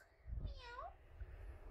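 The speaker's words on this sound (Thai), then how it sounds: "แมวแมว" A cat meows once in Sakura School Simulator, a short rising-then-falling cry close by that stands out clearly against a quiet background.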